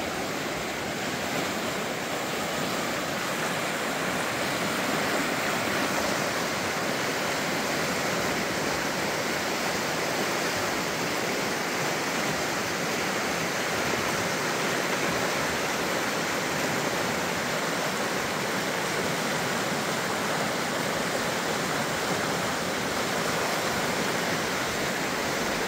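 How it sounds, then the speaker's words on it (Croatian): Steady, full rushing of flowing water near a riverbank in green natural surroundings, a continuous broadband wash that holds even and loud throughout with no voices. "voli uživat malo u šumu vode, u prirodi,"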